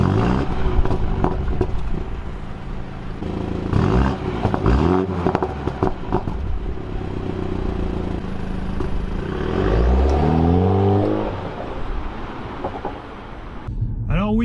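A BMW M135i, a four-cylinder model, driving on the road. A steady engine and road rumble rises into an audible rev around the middle, with someone talking over it.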